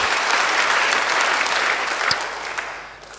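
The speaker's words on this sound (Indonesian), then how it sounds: "Beri tepuk tangan bagi dia." A church congregation breaks into loud, sustained applause, a thick wash of clapping that holds strong before thinning out with a few last claps near the end.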